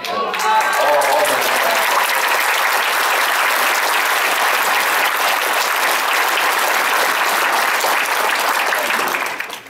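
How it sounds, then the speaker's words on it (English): An audience gives a sustained burst of loud applause for instructors at a 2013 graduation ceremony, many hands clapping densely and continuously for nearly ten seconds before tapering off at the end. "everybody give them an applause"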